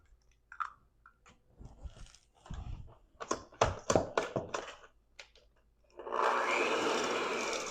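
Brown sugar and room-temperature eggs for a German chocolate cake are worked together in a bowl: scattered clinks and scraping mixing noises, followed by a steady, loud whirring of an electric mixer at the end.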